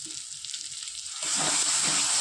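Spice masala sizzles in a pan for a Bengali fish and eggplant curry, a soft hiss at first that jumps into a loud, bright, close frying crackle halfway through.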